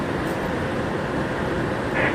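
A Bombardier R179 J train on the New York City subway gives a steady, loud rumble of wheels and motors while riding, between Alabama Avenue and Myrtle Avenue, with a faint higher squeal near the end.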